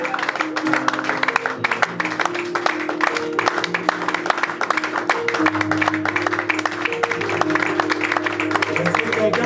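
A church congregation at Sunday worship applauds and cheers loudly, dense continuous clapping with voices and sustained tones running underneath throughout.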